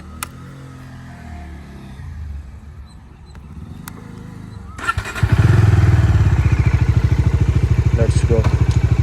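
A Bajaj Dominar 250 motorcycle starts up about halfway through, after quieter ambient sound, then settles into a loud, steady, thumping idle close by.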